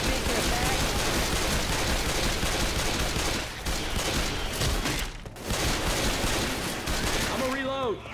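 Left 4 Dead 2 firefight in The Parish, a dense continuous barrage of rapid gunfire with overlapping shots and chaotic game noise, loud throughout with brief dips and a voice speaking near the end.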